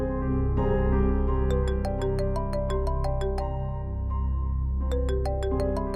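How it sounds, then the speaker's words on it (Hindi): A phone ringtone plays a bright, repeating electronic melody over a sustained tone, loud and close, with no voices. "सजीला का फोन आ रहा है अम्मी।"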